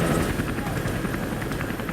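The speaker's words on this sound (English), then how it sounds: "A Maricopa sheriff's helicopter arrives just in time." A Maricopa County sheriff's rescue helicopter flies over a flooded river in heavy crosswind, its rotor and engine roar filling the scene as a steady, loud, broadband wash with a faint rhythmic chop throughout.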